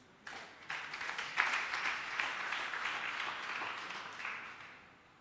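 A church congregation breaks into applause for the Lord, a swell of many hands clapping that starts abruptly, holds steady for several seconds at a moderate distance, then fades away.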